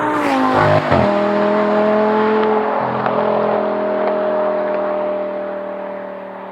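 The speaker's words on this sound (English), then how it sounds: "that amazing naturally aspirated V10. It's derived from the Lamborghini engine." Audi R8's naturally aspirated, Lamborghini-derived V10 revs hard close up with a sharp blip, then holds a loud, steady high-pitched wail that slowly fades away.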